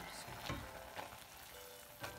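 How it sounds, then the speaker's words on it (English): A pot of rose petals simmering on low heat is stirred, a soft bubbling sizzle running throughout with three brief scraping stir strokes spaced about half a second apart, close and alone. "give it a good stir."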